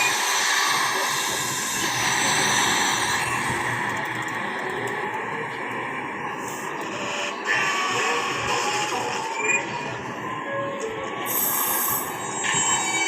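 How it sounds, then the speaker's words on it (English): An R46 subway train runs along the track, a continuous rumble with rising and falling motor whine and occasional metallic squeals and clatter. "the cool R46 sound"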